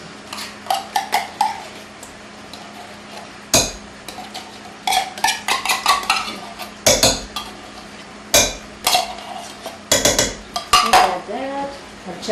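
A small spatula scrapes and clanks against a pan of cooking pork chops, with repeated irregular metallic scrapes and knocks, close and fairly loud, under a steady sizzle.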